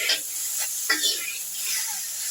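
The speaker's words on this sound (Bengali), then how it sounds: "একটু ভালো করে ভাজা ভাজা করে নিচ্ছি" Drumsticks and potatoes sizzle in a hot pan with a steady hiss, interrupted by a few stirring scrapes.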